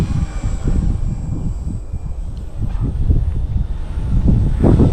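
A Blade 150S collective pitch RC helicopter's motor and rotor whine steadily nearby in flight, with a rough, fluttering low-end buzz that rises and swells toward the end.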